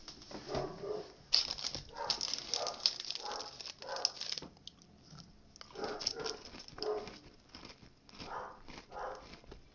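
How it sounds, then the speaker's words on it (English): Pet dogs barking indoors in repeated bursts of several barks each, fairly close, with short pauses and a few whimpers between volleys. "my dogs just love to bark at nothing"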